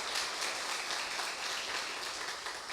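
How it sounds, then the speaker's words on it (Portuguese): A church congregation claps together in a continuous, fairly soft wash of applause, sustained without pause and with no voices standing out. "aplauda Ele por isso"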